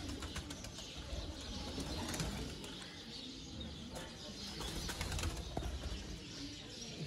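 Pigeons kept for flying coo softly and flap their wings in a loft, a low continuous murmur of cooing broken by bursts of wingbeats, fairly faint and close, with no talking.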